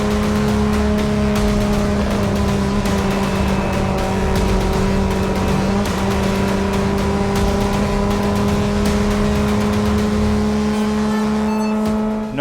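A GT race car lapping Spa Francorchamps, its engine droning loud and close at a steady high pitch for the whole stretch with little variation in revs, wind and road roar beneath, ending in a brief shift.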